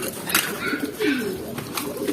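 Stock pigeons at a feeding spot give soft cooing calls, a few low throaty coos rising and falling close by against faint background rustle.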